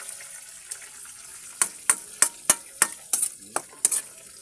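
Bagoong shrimp paste with sugar stirred and frying in a pan, quiet sizzle underneath a series of about a dozen sharp scraping clinks from the spatula, irregular but frequent.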